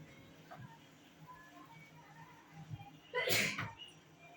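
A single short sneeze bursts out near the end, loud against a quiet room with faint background murmurs.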